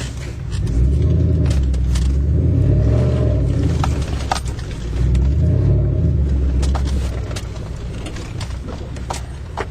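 A truck engine runs through an exhaust that was welded at home, giving a loud, close, steady low rumble that swells twice as the revs rise and fall.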